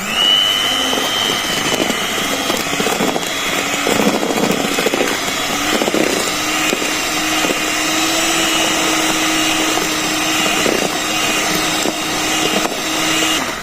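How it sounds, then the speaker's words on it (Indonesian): An electric hand mixer runs at its lowest speed through banana cake batter, a loud, steady motor whir with a faint underlying hum and slight scraping fluctuations, continuous for the whole stretch with no voices. "cukup mixer dengan kecepatan paling rendah dan cukup sampai tercampur"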